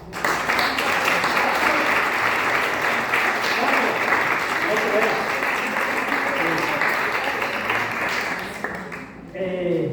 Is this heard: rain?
no